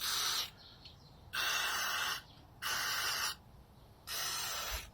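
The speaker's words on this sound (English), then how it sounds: "One more, spray down." Four short bursts of brake cleaner spray hiss out in a regular rhythm onto a motorcycle front brake piston, each under a second long, with quiet pauses between.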